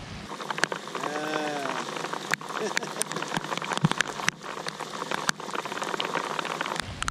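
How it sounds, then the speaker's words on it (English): Rain sweeping across a beach at a solo camping spot, a steady dense hiss of drops with sharp nearby splats and brief crackles throughout, close and fairly loud. "I can see that rain sweeping across. It's gonna hit proper."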